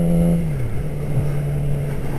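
A Yamaha R6 motorcycle engine drones steadily while riding, its pitch dropping briefly and then holding a constant level, loud and close with wind rush and no talk.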